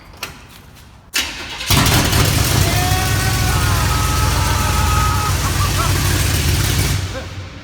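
A 1974 Chevy C10 engine fires up on a crappy makeshift exhaust, catching after a brief crank and settling into a loud, steady, rumbling idle up close for several seconds before cutting off.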